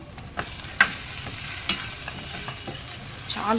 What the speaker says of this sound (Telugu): కలుపుకుందాం ఒక్కసారి